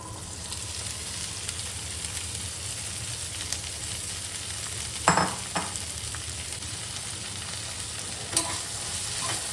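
Green peas being stirred and fried in a pan for matar kachori filling, a steady low sizzle with a couple of louder scraping stirs of the spoon near the middle and one near the end, no talking.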